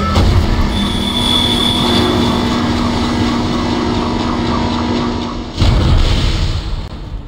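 A tram in the video game Dead Space rolls along with loud, sustained metallic wheel squeal and rumbling rail noise, briefly dipping before a sharp surge near the end.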